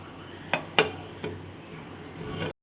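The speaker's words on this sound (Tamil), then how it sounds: "இப்போ நம்ம குக்கரை க்ளோஸ் பண்ணிடலாம்." A metal pressure cooker lid is set on and closed over boiling rice for baby corn vegetable biryani: three sharp metallic clanks over a low simmering background, then an abrupt stop.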